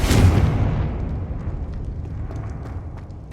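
A Confringo blasting spell from Hogwarts Legacy detonates in a loud, deep boom that peaks early and then rolls off into a long, low rumbling decay with scattered crackles, with no voices.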